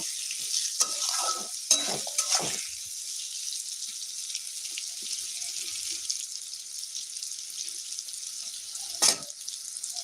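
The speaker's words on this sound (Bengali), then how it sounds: "বেগুনটাকে আরেকটু ভাজা করে নিচ্ছি" Eggplant sizzles steadily in a frying pan, a continuous close hiss with a few sharper scrapes and knocks from stirring near the start and again toward the end.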